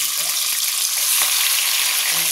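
Prawns fry in hot oil with whole garam masala, bay leaf and a dried red chilli in a wok, making a loud, dense, continuous sizzle up close with light stirring throughout.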